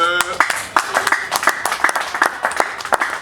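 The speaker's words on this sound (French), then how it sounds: "applaudissez s'il vous plaît" Clapping from a crowd at a political gathering, sharp close claps in an uneven burst, with voices heard briefly at the start.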